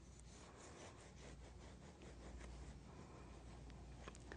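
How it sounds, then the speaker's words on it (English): A serrated knife saws the dome off a baked cake, a soft, rhythmic rasping of back-and-forth strokes, quiet and close, with no talk. "I'm going to cut the dome off of this one using a serrated knife."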